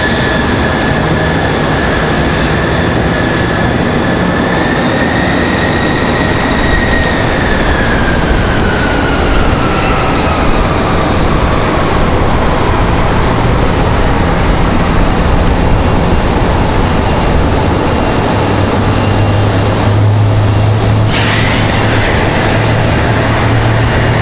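Airliner jet engines at Raleigh-Durham airport, a loud sustained roar with a pronounced whine that rises, then slowly falls in pitch as an aircraft passes, joined later by a low rumble and a brief burst of noise.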